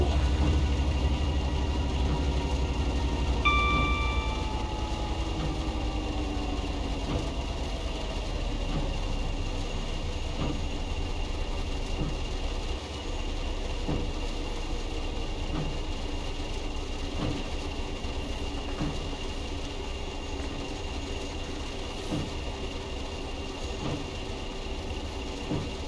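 Southeastern high-speed electric train in the Train Sim World game, running steadily downhill with a continuous loud rolling drone and motor hum, faint rhythmic clicks from the rails, and a brief tonal whine early on.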